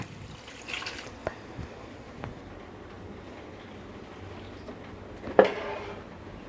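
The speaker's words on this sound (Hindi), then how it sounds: "अब हम इसमें पानी डाल देंगे। 3 गिलास हम इसमें पानी ऐड कर लेंगे।" Water is poured steadily into a cooking pot of rice and potatoes for pilaf, a soft, faint liquid rush with a brief louder splash near the end and no talking.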